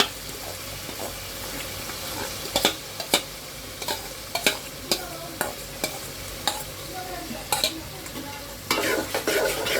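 Haleem mixture tipped into a hot pan sizzles steadily while a spoon scrapes and stirs in repeated sharp knocks against the pot, close and clear with no talking; the hiss swells louder near the end.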